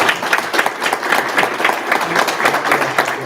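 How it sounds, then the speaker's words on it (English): Law school debate audience claps in a round of applause, a close, loud patter of many hands sustained evenly throughout. "A round of applause for our debate."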